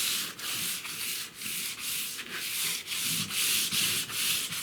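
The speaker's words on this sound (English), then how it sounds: "I want to sand these guys a little bit" Hand sanding small repaired boat parts with 220 grit sandpaper, rhythmic back-and-forth rasping strokes, about ten passes with brief gaps between, close and steady with no talking.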